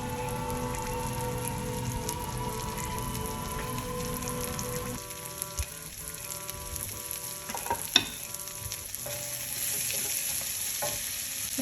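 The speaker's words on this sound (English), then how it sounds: "I'm going to take my fennel and my shallots and saute within these delicious juices" Fennel and shallots sauté in shrimp pan juices, giving a steady, close sizzle and crackle that thins slightly partway through, with a few utensil clicks and no talking.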